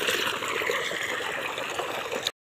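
Water gushes from the outlet of a Lubi 2 HP water pump motor in a farm field, a loud, steady rushing flow that cuts off abruptly near the end.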